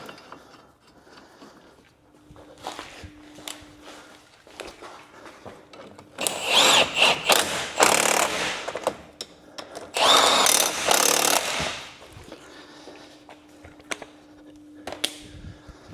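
Impact gun or power tool bursts tightening the two brake caliper carrier bolts on a Renault Trafic, two loud rattling runs separated by quieter workshop noise and small clinks, with no talking.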